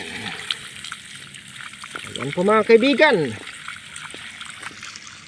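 Water from a mountain spring pipe pours and trickles into a tank, a steady splashing flow in a rural hillside setting. Someone talks over it near the start, and the splashing rises briefly louder midway through.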